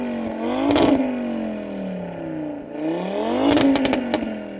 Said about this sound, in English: So Audi RS3, can you rev your engine a bit please mate, so we can just enjoy its tone.